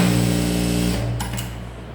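A sewing machine runs steadily and close by while stitching a blouse hem right along the edge, its motor hum holding for about a second before it slows and winds down.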